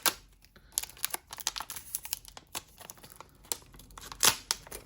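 Someone cuts open thick plastic trading card pack wrappers: a steady run of close, crisp snips, crinkles and tearing rustles with no talking.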